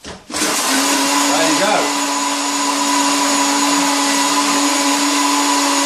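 A kitchen blender blitzes pizza ingredients, a loud, steady whirring motor roar that starts abruptly and runs continuously to the end, with a brief spoken comment near the start.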